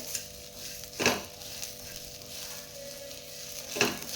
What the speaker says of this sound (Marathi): दोन चमचे तीळ यामध्ये टाकायचे यामुळे आपली भाजी खूप खमंग लागते तीळ व्यवस्थित आपल्याला भाजून घ्यायचे